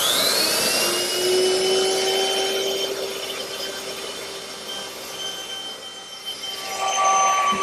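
A router cuts a quarter-round profile along the wooden saddle of a rocking horse, a loud continuous high-pitched whine whose pitch shifts slightly as the bit bites into the wood, steady throughout with no talking.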